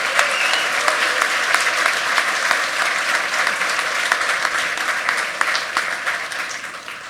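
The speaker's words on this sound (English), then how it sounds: "Can we get a huge round of applause for these 5 projects?" A large audience at an awards ceremony for the 2019 Hackaday Prize applauds in a dense, sustained wash of clapping that holds steady and fades slightly toward the end.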